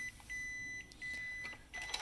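A document scanner emits faint, long electronic beeps, three sustained tones in a row, signaling that the paper should be removed, with quiet background noise around them.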